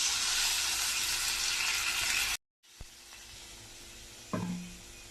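Mutton chops pepper masala sizzling in a pan, a steady loud hiss and crackle of frying that cuts off abruptly, then quieter simmering with a few clinks and a brief splash as mutton stock water goes in.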